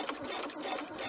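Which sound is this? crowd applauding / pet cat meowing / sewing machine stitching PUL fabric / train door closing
sewing machine stitching PUL fabric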